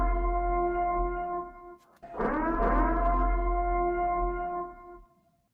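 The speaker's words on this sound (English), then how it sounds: "that's kind of why I had the purge sirens" A single civil defense siren tone drones steadily, briefly breaks, then swells into a rising wail before fading out at the end.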